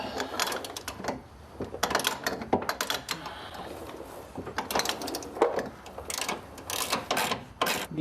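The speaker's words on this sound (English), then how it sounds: "you're definitely going to want to use a breaker bar on this stuff as well" A breaker bar works loose the suspension bolts on a Nissan 240SX, giving repeated metallic clicks and ratcheting bursts at close range, with short gaps between the pulls.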